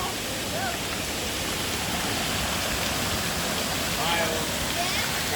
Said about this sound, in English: Oh, we are in Goa Raja Waterfall.